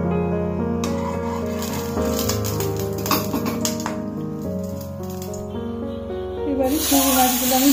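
Prawns coated in salt and turmeric sizzle and spit in hot oil in a wok. The hissing crackles continuously beneath prominent background music, with an occasional clink of metal.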